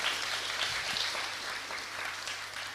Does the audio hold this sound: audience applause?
yes